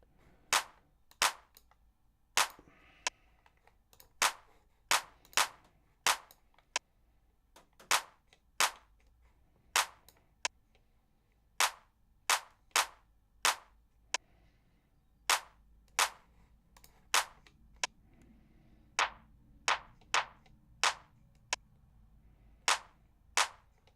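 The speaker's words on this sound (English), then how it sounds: "we're going to bring in the clap because they're layered with each other" A layered clap sample in a song mix, with sharp, dry claps hitting alone in a steady rhythmic pattern, roughly one per second, fairly loud and close.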